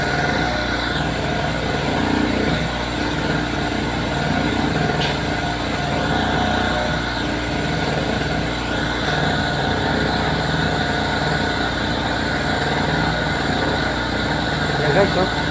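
An Oshima portable electric generator's small engine runs steadily and loudly, a constant buzzing drone with no change in pace, while people talk over it.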